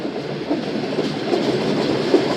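A passenger train running on rails along the Lahore division line gives a steady, close rumble with soft rhythmic clatter of wheels over track joints.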